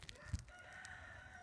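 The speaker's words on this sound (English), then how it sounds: "And it's a little cutie rooster." A pet rooster heard faintly at a distance, with a short cluck and a soft, drawn-out crowing tone over quiet background hiss.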